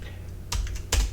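A couple of crisp keyboard keystrokes from someone typing a command on a computer, two short close clicks over a faint steady hum, with no talking.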